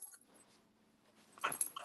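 A dog jumps around restlessly indoors, making soft, low whimpering and shuffling sounds, then a louder burst of movement and whining near the end, heard close by without talk.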